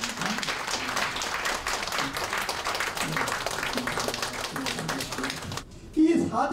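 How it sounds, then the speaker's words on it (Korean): An audience at a Korean press conference applauds to welcome a speaker, a dense steady patter of many hands clapping for several seconds before it drops off and a voice begins speaking. "우리 박수로 한번 환영해 주십시오."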